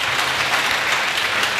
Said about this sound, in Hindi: तो एक बार फिर से इनके लिए तालियां हो जाए।